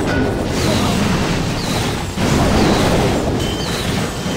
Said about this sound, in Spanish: Explosión.